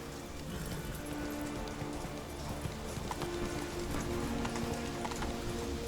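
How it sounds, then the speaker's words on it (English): Horse hooves gallop in the Witcher 3 video game: a rapid, steady clip-clop that runs throughout, close and fairly loud over a constant wash of rain-like ambience. "Faster. Run, Roach."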